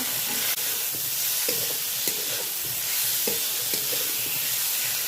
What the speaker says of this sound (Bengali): লবণ দিয়ে দিলাম হলুদ দিয়ে দিলাম এটাকে আমি ভেজে নেব